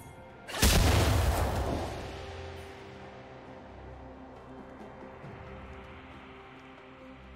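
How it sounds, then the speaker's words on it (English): A League of Legends turret collapses in a single heavy booming blast that rumbles and decays over a couple of seconds, leaving quieter game ambience and a faint later thump. "Red Team's turret has been destroyed."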